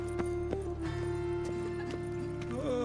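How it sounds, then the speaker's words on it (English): Horse hooves clip-clop in a steady rhythm in The Witcher 3, with a sustained musical drone underneath and a brief neigh-like sound near the end. "Some backside posted young horse here."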